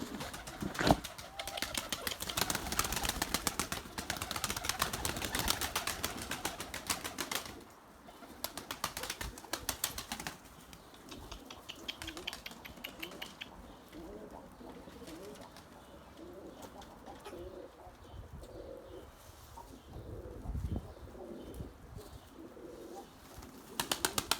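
Erzurum White breeding pigeons coo softly in their loft, low repeated murmuring calls with occasional wing flaps and scattered louder bumps.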